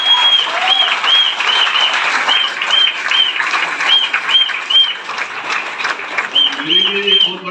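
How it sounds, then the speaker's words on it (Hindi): An audience claps loudly for three women at a marketing company event, a steady roar of hands with a repeating electronic tone over it and a voice starting to talk near the end. "क्या 3 देवियों के लिए एक बार जोरदार ताली होनी चाहिए।"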